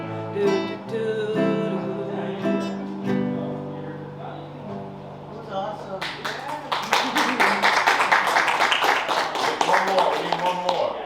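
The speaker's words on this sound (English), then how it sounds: "That's the biggest applause we've had." Audience applause at a live podcast show with a band, a burst of dense clapping that follows the closing notes of a sung song and builds to a sustained, lively level.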